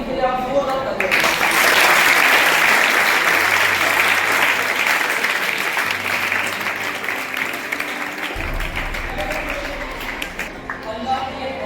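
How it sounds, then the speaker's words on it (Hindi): Loud, sustained applause from a school audience during a fire safety program, dense clapping that swells quickly and holds strong for several seconds before easing slightly, with some crowd noise underneath. "इनके लिए आप जोरदार तालियां बजाएं"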